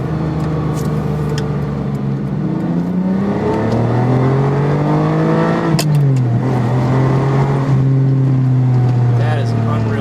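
Ferrari 550 Maranello V12 engine accelerating, a smooth, loud harmonic roar that climbs in pitch, dips at a gear change, then climbs again, with tire and wind noise underneath.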